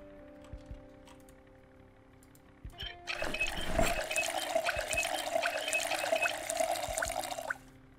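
Water being collected in the video game Project Zomboid, a few quiet clicks and then a loud gushing run of water for about four seconds that stops abruptly.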